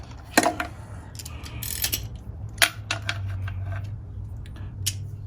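A 10 mm socket wrench ratchets a bolt tight on a Honda Odyssey during a spark plug job, giving short bursts of sharp metallic clicks with brief pauses over a low background hum.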